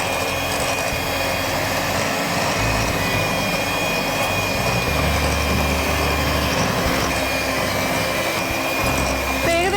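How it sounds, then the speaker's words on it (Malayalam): Hand blender whipping butter for a butter bun dough, a steady, loud continuous motor whir with a constant high tone, running alone throughout with slight load changes. "നമ്മൾ ഹാൻഡ് ബ്ലെൻഡർ ഉപയോഗിച്ചിട്ടാണ് ഇങ്ങനെ നന്നായിട്ട് ബീറ്റ് ചെയ്തെടുക്കുക"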